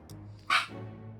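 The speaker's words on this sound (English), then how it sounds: "it's just my dog barking at the mail" A dog barking at the mail gives one sharp, fairly close bark in the middle of a quiet moment, with a faint yip just before it and a low indoor hum underneath.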